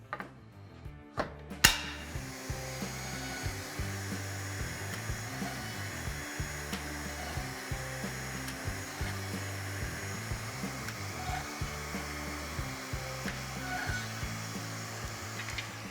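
A plunge router bores holes through a wood panel along a guide rail, its motor whining steadily and close, broken by repeated rhythmic plunging cuts. A few sharp knocks come just before the motor starts.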